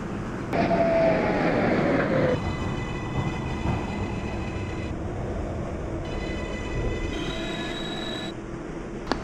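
A Manhattan-bound New York City 6 local subway train runs through the Bronx, with a steady rumble, wheels squealing early on, and layered high motor whines that shift pitch in steps as it travels.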